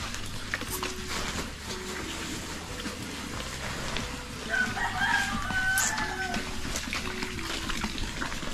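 Backyard chickens raised for eggs cluck steadily while a rooster crows in the background, with a water-like hiss running underneath and brief rising calls in the middle.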